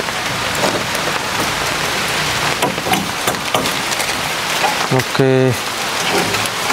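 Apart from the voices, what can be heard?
heavy rain in forest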